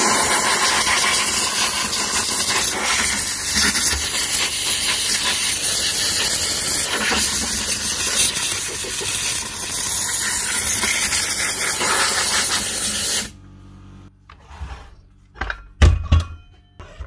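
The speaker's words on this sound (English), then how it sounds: "give her a wee clean down. Clean out all the sawdust so whenever we do open it," Sawdust is blasted out of a DeWalt Flexvolt brushless circular saw with a loud, continuous airy hiss for about thirteen seconds. It then cuts off, followed by a few scattered knocks and clunks.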